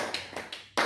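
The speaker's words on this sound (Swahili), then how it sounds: "Hebu nipigeni makofi kwanza." A congregation at a night prayer service clapping, a few quick bursts of applause with brief gaps, then a louder swell of clapping at the end.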